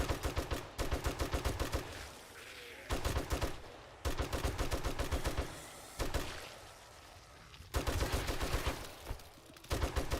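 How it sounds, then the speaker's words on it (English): An automatic weapon in the 7 Days to Die video game fires in short controlled bursts, five rapid strings of sharp shots separated by brief pauses, close and loud. "See, I'm firing in bursts, preserves ammo."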